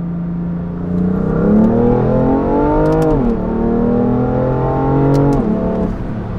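BMW F80 M3 accelerating in second gear, heard from inside as a loud, rising engine drone with two quick dips at the shifts, steady and close with no speech.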